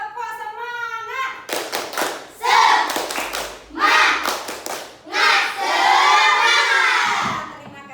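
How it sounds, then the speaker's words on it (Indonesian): Schoolchildren in a classroom perform the rhythmic "tepuk semangat" clapping chant, bursts of claps and shouted voices rising in loud waves, ending in sustained excited cheering from the whole group. "Tepuk semangat."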